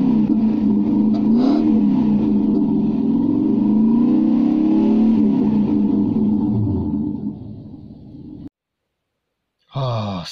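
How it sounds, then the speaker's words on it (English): A Lexus LS400 engine idles steadily close by after a dead tensioner was replaced, a loud low rumble with shifting tones that fades out near the end before a brief noise returns. "So there you go, the Lexus is running again."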